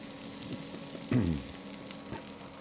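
Faint steady sizzle of a crêpe for ham and cheese cooking in a hot pan, with a brief louder scrape or shuffle of the pan near the middle and soft crackling around it.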